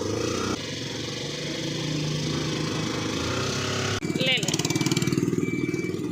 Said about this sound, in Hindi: रॉकेट की आवाज़ वाला रिक्शा कराया हुआ है।